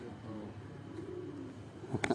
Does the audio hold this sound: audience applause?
no